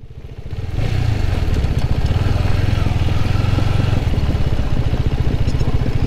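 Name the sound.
motorcycle engine idling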